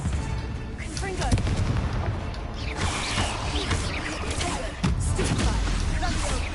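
Spell explosions from the Confringo fire spell in the Hogwarts Legacy video game crackle and boom repeatedly amid dense combat noise, with sharp bursts near the middle and end, while a voice shouts spell names over the din.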